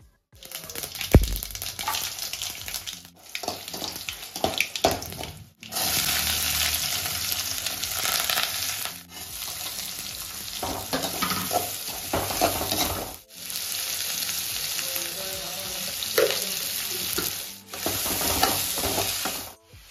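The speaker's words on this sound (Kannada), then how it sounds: "ಈ ಮಿಡಿಲ್ ಗ್ಯಾಪಲ್ಲಿ ನೀವು ಒಗ್ಗರಣೆ ಹಾಕ್ಕೊಬಿಡಿ" Spices for a South Indian oggarane tempering sizzle hard in hot oil for a pumpkin and field-bean palya, a loud, steady frying hiss with stirring scrapes, broken by a few short pauses.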